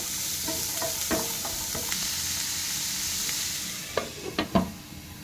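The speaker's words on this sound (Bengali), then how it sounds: "এই যে গাজর নিয়ে ভালো করে ভেজে নিচ্ছি" Carrots frying in butter in a pan for a vegetable soup, a continuous hissing sizzle with scattered stirring scrapes and a cluster of utensil clinks near the end.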